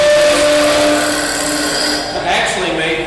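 A turning tool cuts wood on a lathe at a short tool rest, making shavings as a steady, loud scraping and hissing that runs through the whole stretch with slight shifts in pitch and no talk over it.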